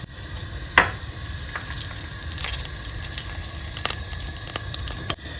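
Butter and olive oil in a pan sizzle with a steady crackling hiss, broken by a few sharp clicks and taps of utensils against the cookware, with no one talking.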